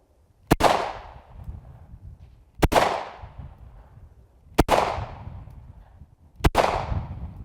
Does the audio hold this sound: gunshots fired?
yes